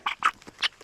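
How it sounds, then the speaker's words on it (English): Pet chickens clucking up close, a few short, sharp squawky calls in quick succession with brief gaps between them. "Pet chickens."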